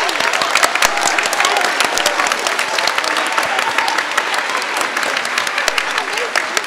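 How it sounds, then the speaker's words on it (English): An audience applauds after a school spring concert, a dense, steady wash of many hands clapping loudly throughout with some crowd noise mixed in. "So one more round of applause."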